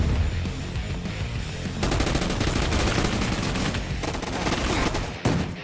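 Gunfire from a shotgun in the Roblox game Gun Fight Arena rattles out in rapid, dense bursts that run almost continuously, loud and close, with no talking.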